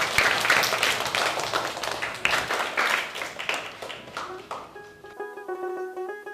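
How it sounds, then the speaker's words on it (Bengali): A classroom group of children claps together to praise a student's neat handwriting. The applause is dense, steady and close for about four seconds, then fades as bright musical tones take over. "চলো আমরা সবাই হাততালি দিই।"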